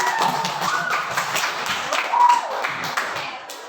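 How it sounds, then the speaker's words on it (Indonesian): A classroom of students claps hands together, a dense, fairly steady patter of many overlapping claps lasting several seconds. "Tepuk tangan dulu."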